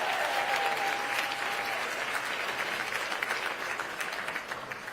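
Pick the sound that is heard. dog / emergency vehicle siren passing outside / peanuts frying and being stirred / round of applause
round of applause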